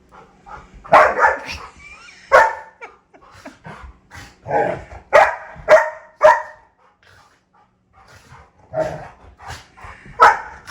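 Several dogs barking and yipping in playful bursts, with short barks and whimpers scattered through the scene and quiet gaps between them.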